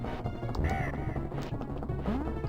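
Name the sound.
bird squawking in Donkey Kong Country video game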